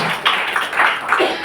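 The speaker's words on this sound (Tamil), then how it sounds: "கைத்தட்டி ஆண்டவரை துதிக்கும்" A church congregation at a Tamil Sunday service claps in praise, with a few loose, uneven bursts of clapping over about a second and a half.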